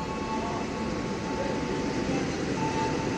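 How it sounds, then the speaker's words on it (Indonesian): The Argo Bromo Anggrek express from Surabaya Pasar Turi to Gambir passes straight through an Indonesian station on track 3, a steady moderate rumble with faint tonal hums throughout. "Kereta Argo Bromo Anggrek melintas langsung di jalur 3."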